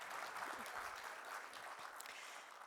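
Soft, somewhat distant audience applause rolls steadily for a few seconds, an even wash of many hands clapping at low volume.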